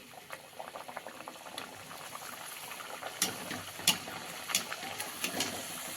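Puris frying in hot oil, giving a soft, close bubbling sizzle with scattered pops and crackles that grow a little louder toward the end, with no talking.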